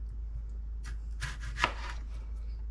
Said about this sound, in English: now we're just going to slice them about, I would say, a ½ inch thick